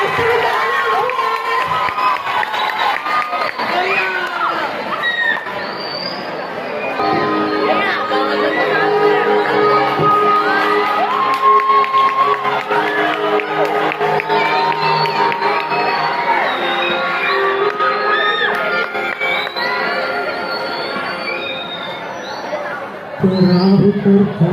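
A school audience at a grade VIII celebration at SMPN 276 cheers loudly for a student band. A dense, sustained roar of children shouting and chattering continues nearby for the whole stretch.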